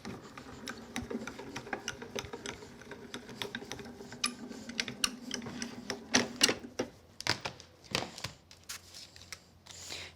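A die cutting machine rolls paper craft dies through in one pass, giving a quick series of light clicks and ticks that grow denser and sharper toward the end, close and fairly quiet.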